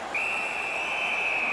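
A referee's whistle from the NHL 19 hockey video game, one steady high-pitched blast held for over a second, clear over faint arena ambience.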